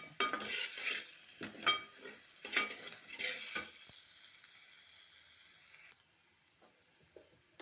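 Ginger and garlic frying in a pan with oil, close sizzling under repeated spoon stirs that scrape the pan, then a softer steady hiss as the stirring stops; no talk.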